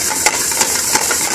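Chopped onions sizzle and hiss loudly in a hot pan for a British Indian restaurant style cauliflower bhaji. Regular scraping strokes of stirring come through under the steady fry.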